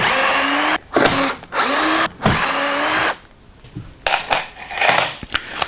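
A power drill whirs in three high-pitched bursts separated by brief pauses, drilling into a part while assembling a woodworking bench, then stops, leaving softer scraping and clattering of work close by.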